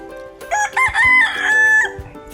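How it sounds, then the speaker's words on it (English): A rooster crows loud and close on a working farm in Hawaii, one full cock-a-doodle-doo with a rising start and long held note, standing alone without talk. "they've got chickens and roosters running around"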